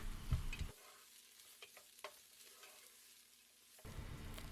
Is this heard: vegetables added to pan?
yes